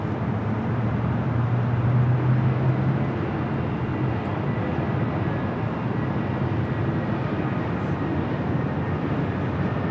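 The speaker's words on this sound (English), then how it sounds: "Air Mexico Dreamliner now pushing it back." An Aeromexico Boeing 787 Dreamliner is pushed back at Los Angeles International Airport, with a continuous loud engine and ground-equipment rumble filling the apron, steady throughout with a brief low tonal hum early on.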